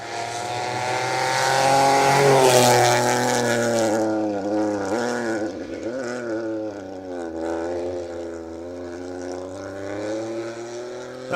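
Rally cars, including a Rally 3 Fiesta, pass close through a gravel chicane on a forest stage, engines roaring loud and revving, with a strong rising pass near the start and a rasping engine note fading after.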